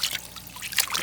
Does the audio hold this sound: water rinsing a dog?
yes